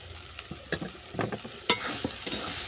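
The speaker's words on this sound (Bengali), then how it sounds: "এটাকে আমি আরও দু মিনিট কষিয়ে নিচ্ছি" Banana peel curry with spices is sautéed in a pan. A spatula scrapes in irregular, fairly close strokes over a quiet, low sizzle, with no talking.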